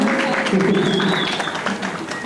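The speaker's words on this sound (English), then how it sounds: "Oh yeah, you can clap, come on." Festival audience clapping in a hall, a full burst of applause with voices and cheering mixed in, fading slightly toward the end.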